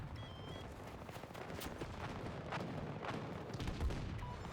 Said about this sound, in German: Werfe jetzt eine Granate!